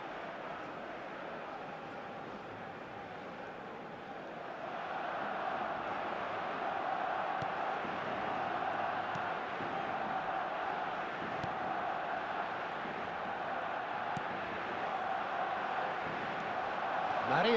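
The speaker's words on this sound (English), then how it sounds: "Certainly gave this crowd something to really cheer about." Stadium crowd noise from an eFootball match, a steady broad roar that swells louder after a few seconds and holds as a continuous backdrop, with a commentator speaking over it.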